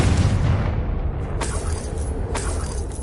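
The Confringo fire spell in Hogwarts Legacy sets off two sharp, bright explosive bursts about a second apart over a rumbling game background.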